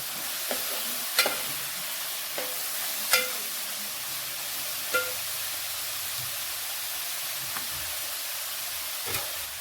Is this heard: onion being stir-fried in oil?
yes